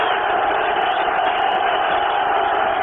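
A stadium crowd at a 2000 football game between the Baltimore Ravens and Cleveland Browns roars in a loud, unbroken wash of voices that holds steady throughout.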